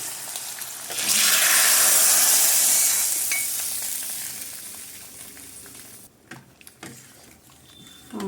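Fried tempering poured into a pot of Andhra-style pappu charu sambar, a loud burst of close sizzling that fades over several seconds, followed by a few stirring clinks and quieter bubbling.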